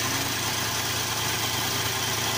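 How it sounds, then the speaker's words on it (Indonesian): A Datsun car's 1200cc engine, owned for almost five years, idles with a steady, loud, even hum and vibration, close up and with no talking. "Yuk kita lihat kondisi mesin sampai hampir 5 tahun ini."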